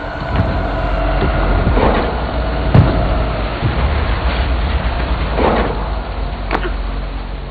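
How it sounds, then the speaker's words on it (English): A moving train in the video game Little Nightmares II: a continuous low rumble with periodic rattling clacks and brief metallic knocks, moderately loud and steady. "Yeah, it's a train."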